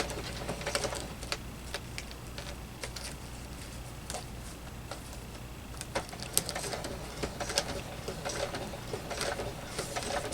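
A sewing machine back stitches through fabric, a fast, even mechanical clatter running steadily throughout with small rhythmic clicks, fairly close and without talk.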